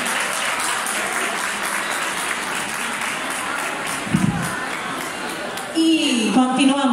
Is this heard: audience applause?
yes